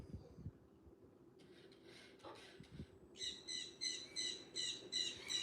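Astro, a home robot, imitates a bird with synthetic chirping tones: a soft electronic warble, then a run of evenly spaced, bright, repeated chirps close by.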